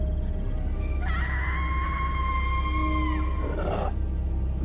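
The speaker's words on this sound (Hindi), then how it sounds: "उसने एक ऐसी चीख मारी कि पूरा स्टेशन कांप उठा" A monster's scream in a horror animation set at a train station at night rises into a long, piercing wail over a constant low rumble, then cuts off sharply.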